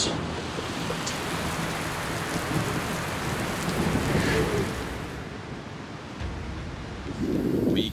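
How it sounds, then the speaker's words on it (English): Heavy rain pours steadily during a big storm at an off-grid compressed earth block home build site, with low rumbling thunder rolling through the downpour, loud and close. "They're predicting 3 to 5 inches of rain over the next couple hours."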